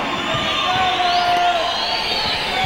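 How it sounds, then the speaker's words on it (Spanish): Crowd at an AAA lucha libre wrestling event in Querétaro, cheering and clapping in a steady, moderately loud hubbub, with an announcer's voice over it. "el aplauso para nuestras bellísimas edecanes internacionales Triple A"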